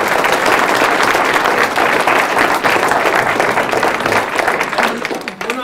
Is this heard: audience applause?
yes